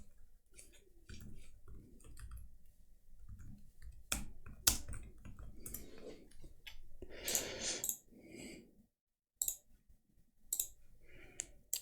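Someone types on a computer keyboard while filling in a name, email and zip code, producing rapid, close clicking keystrokes in uneven bursts with brief pauses. The typing is alone, with no talk over it.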